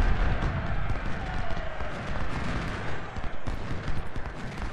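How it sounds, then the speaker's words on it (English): Musket volleys and scattered gunfire from Civil War skirmishers in the Ultimate General: Civil War strategy game, a dense, continuous crackle of shots rolling on without pause across the whole stretch. "I want to engage these skirmishers. I don't want them firing on Hampton's Legion"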